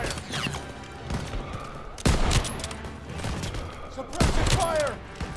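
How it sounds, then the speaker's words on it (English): Heavy suppressive gunfire in Call of Duty WWII, rattling automatic bursts with two big booming volleys, amid the din of battle and shouting voices. "They need cover fire!"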